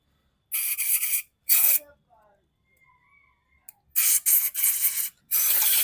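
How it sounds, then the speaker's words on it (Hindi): Spray cleaner hisses in several sharp bursts onto a part of a Honda SP 125 motorcycle during TPS sensor work, close and loud, with short pauses and faint clicks between the blasts. "तो एक बार हम स्प्रे का यहाँ पे यूज कर देते हैं।"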